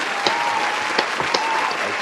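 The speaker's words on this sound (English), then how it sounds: "Round of applause." An audience on a talk show applauds a guest actor as he is introduced, producing a short burst of steady clapping with sharp individual claps standing out.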